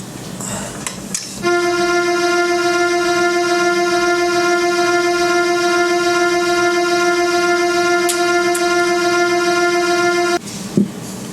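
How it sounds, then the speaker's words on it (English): A buzzy, retro polyphonic chip synthesizer played from a Korg nanoKEY Studio holds one steady electronic tone for several seconds, with faint background noise before and after. "a polyphonic chip synthesizer. It gives you those video game sounds, those old school video game sounds"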